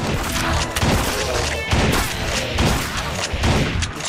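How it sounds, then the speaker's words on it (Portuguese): Rapid, continuous gunfire fills the top-down shooter Crimsonland, with dense bursts of loud shots, crashes and impacts stacked close together and no pause between them. "O som das armas é bem gratificante, né?"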